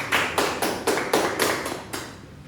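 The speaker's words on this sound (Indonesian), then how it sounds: "tepuk tangan dulu untuk Kamila, ya" A classroom gives a student a short round of applause in six or seven even, rhythmic unison claps that stay close and fairly loud, without voices.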